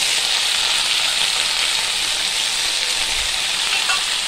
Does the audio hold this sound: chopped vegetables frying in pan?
yes